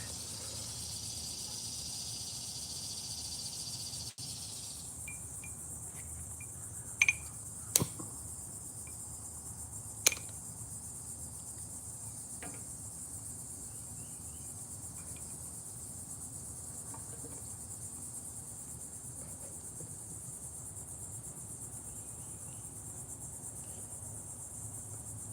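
Southern outdoor insects, likely crickets, give a steady high-pitched chirring drone throughout, with a few faint clicks and no talking.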